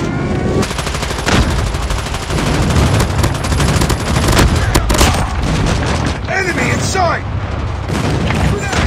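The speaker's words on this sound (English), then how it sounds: "Friendly airstrike incoming." Call of Duty Mobile 10v10 match: dense, continuous gunfire and booming airstrike explosions fill the scene, loud and close, with game voice callouts over the combat.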